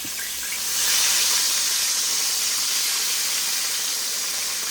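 Battered pork chops fry in a hot pan, giving a loud, steady, bright sizzle that swells after a moment and then holds evenly without pause.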